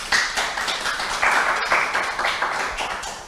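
An audience claps in applause for an award winner at a ceremony, dense and steady hand clapping throughout at close range, no talk over it.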